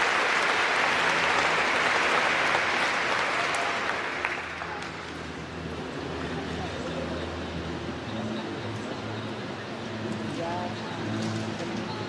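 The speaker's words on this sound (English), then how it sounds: "Let's give another round of applause to the graduating class of 2026." Sustained applause from a crowd at a Carpenter High School evening graduation ceremony honoring the class of 2026, loud and dense for about four seconds, then thinning into scattered clapping and murmuring that continues to the end.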